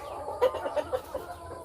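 Three-week-old chicks give several soft, close cheeps and clucks in quick irregular succession over a low background hum.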